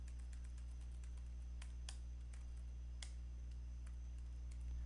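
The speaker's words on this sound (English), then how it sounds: "I can click this and I can type in a message to her" Typing on a computer keyboard while composing an email message, with a quiet run of soft, irregular key clicks and a few sharper taps over a steady low hum.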